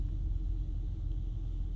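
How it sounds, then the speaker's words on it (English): A 2002 Volvo S80 with a faulty instrument panel idles steadily, its low engine rumble close and constant throughout with no other sounds on top. "As you can see, you can hear the vehicle running."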